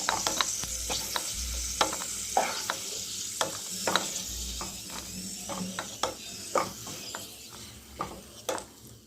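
Bay leaves, cinnamon and small cardamom frying in hot oil over low gas for golap polao, a steady soft sizzle broken by sharp clicks and scrapes of stirring in the pan, close and fairly loud, with no voices.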